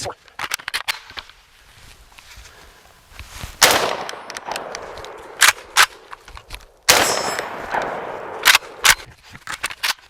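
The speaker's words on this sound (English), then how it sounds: "We're gonna shoot 14 rounds this way." Pistol shots from a handgun run as a home-defense drill crack out sharp and close, fired mostly in quick pairs separated by short pauses and metallic handling clinks.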